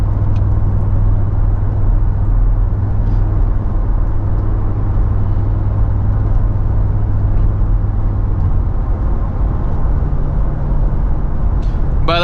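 Mercedes G-Wagon engine grumbling on a late-night drive in Dubai, a loud continuous low rumble heard from inside the cabin with a slight shift in pitch late on.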